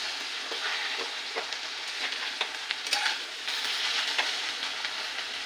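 Coriander greens fry in a kadhai, giving a soft continuous sizzle broken by scraping stir strokes at an irregular rhythm, fairly quiet and with no voices.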